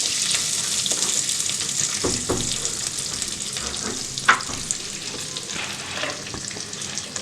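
Large onion pieces frying in oil in a clay kadai for kadai paneer, a steady close sizzle with occasional stirring scrapes and a brief clatter, no talking.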